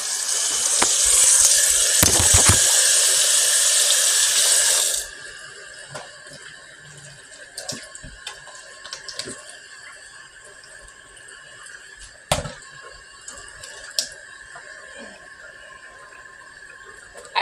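Water runs from a kitchen sink faucet in a steady, bright hiss for several seconds, then the flow stops, leaving scattered drips, clinks and quiet handling noises in the basin.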